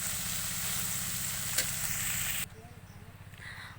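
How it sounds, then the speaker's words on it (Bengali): Bitter gourd, onion, bottle gourd peel and potato fry in a pan with a steady, soft sizzle. The sizzle drops sharply partway through and continues more quietly afterward. "লাউয়ের খোসা, আলু দিয়ে ভাজা হচ্ছে।"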